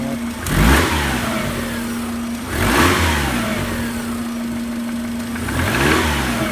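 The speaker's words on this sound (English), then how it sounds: "Yeah, it's got a little bit of a knock." A cold car engine at a Copart salvage yard revs up three times and drops back to a steady idle, with a faint knock ticking through it, loud and close with no voices.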